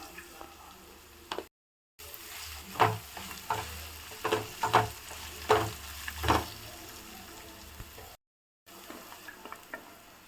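Ginger garlic paste and turmeric fry in hot oil for a dried-fish tamarind curry, a close sizzle broken by repeated scraping stir strokes, with two brief silent gaps.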